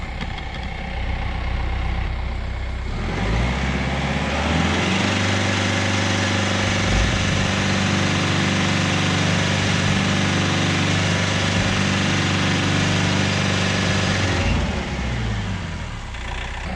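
A heavy tractor engine idles loudly, then rises and labors steadily under load for several seconds trying to lift a shipping container before easing back down, with no talking.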